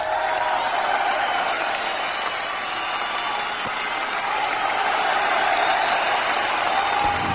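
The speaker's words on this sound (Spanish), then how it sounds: "Recibimos con un enormísimo aplauso a Hernán Cacciari" A crowd welcomes the writer Hernán Casciari onstage with sustained, even applause, dense clapping that stays steady throughout, with faint whistle-like tones riding above it.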